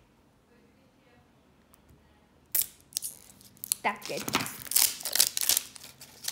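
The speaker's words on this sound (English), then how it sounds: "Time to use my trusty scissors." Crisp snipping of scissors and crinkling of plastic toy packaging, close and busy, starting after a quiet stretch, with a brief spoken remark.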